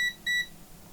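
A multimeter in continuity mode gives two short, clear electronic beeps in quick succession, close and alone in a quiet room.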